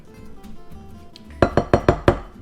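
A utensil stirs mushroom batter ingredients in a bowl, first quietly and then with five quick evenly spaced clinks against the bowl near the end, close and fairly loud, with no voices.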